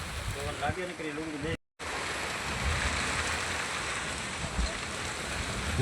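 Steady rain hisses throughout during a storm with wind and lightning, with a voice talking briefly near the start and a short silent break before the downpour sound resumes.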